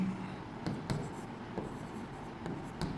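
Marker or chalk writing a sentence on a classroom board, several short distinct strokes tapping and scraping at an even pace, close and moderately loud.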